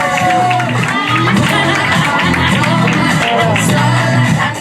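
A comedy club crowd cheers and claps loudly throughout, with whoops and shouts over dense applause and music playing underneath.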